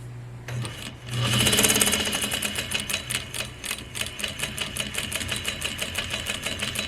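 Industrial Juki DDL-8700 sewing machine, not forming stitches, spinning up with a whir and then running in a fast, steady mechanical chatter of rapid needle strokes, close and clear.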